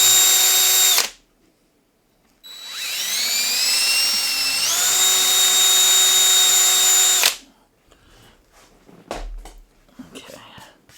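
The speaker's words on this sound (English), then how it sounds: "A little wiggle drilling." A power drill, used in a Cessna 172 home cockpit rebuild, whines loudly and nearby in two bursts, the second long with the pitch rising as the bit is worked, followed by quieter shuffling.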